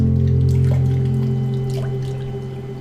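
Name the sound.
warm water flowing in waterfall therapy massage treatment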